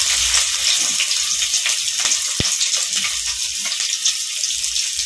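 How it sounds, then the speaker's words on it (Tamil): Chopped onions with cinnamon and cloves fry loudly in a pan, a dense close sizzle with occasional stirring clicks and a sharp tap partway through. "சோ வெங்காயம் வந்து நல்லா வந்து வதங்கி வரட்டும்."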